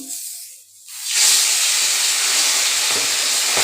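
Small fish drop into hot oil with an abrupt burst of loud hissing sizzle after a moment of near quiet, then a steady, close frying crackle continues.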